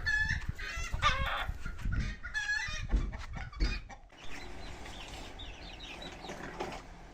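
Chickens and ducklings cluck in bursts nearby in a yard, with some mechanical clatter in between and a busy, chattering mix of bird calls toward the end.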